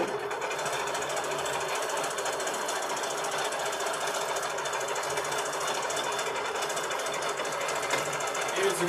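Sewing machine running fast while quilting, a steady rapid mechanical chatter that stays even and continuous, close and moderately loud with no pauses.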